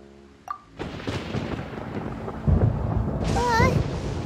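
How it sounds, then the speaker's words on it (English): Thunder rumbles in Genshin Impact, a deep rolling boom building under rain-like noise and swelling louder toward the end, with a bright chime earlier and a rising magical shimmer near the close. "Paimon hears thunder!"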